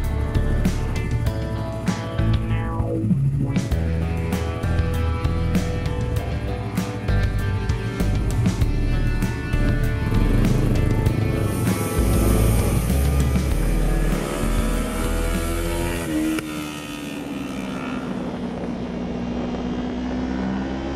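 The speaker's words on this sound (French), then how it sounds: "cette moto, elle ne fait que 321 cm3" A Yamaha 321 cc sport motorcycle screams around a race circuit, its engine holding a loud, continuous high-revving drone with pitch rises and falls through gear changes and corners, close to the listener.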